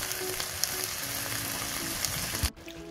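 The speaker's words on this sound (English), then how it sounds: "Just going to keep mixing it until it's all nice and mixed in, and then turn it down to a simmer." Chickpea and tomato mixture being stirred in a pan, a steady broadband sizzle with soft scraping that continues throughout and then drops away abruptly near the end.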